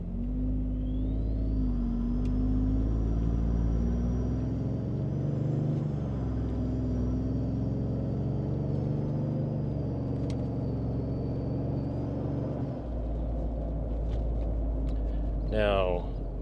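A 2022+ Toyota Tundra with a cat-back exhaust and air intake, heard from inside the cab while cruising from about 1200 to 3000 RPM: a deep, steady exhaust rumble with a faint whine that rises and eases with engine speed.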